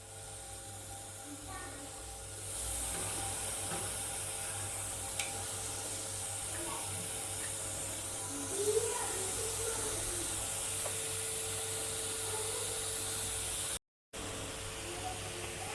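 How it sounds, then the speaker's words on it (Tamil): Marinated chicken pieces frying in a little oil in a hot pan for butter chicken masala, giving off a steady, even sizzle that starts after a quieter opening and holds with a few faint clinks and stirs. "இப்போ சிக்கனை சேர்த்து லைட்டாக ஆயில் சேர்த்து ஃப்ரை பண்ணிவிடுங்க"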